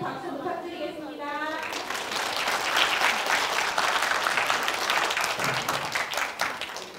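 Applause from a school lecture audience in Incheon greeting a climate-change professor, a dense steady patter of many hands swelling and holding for several seconds, with talk over the start.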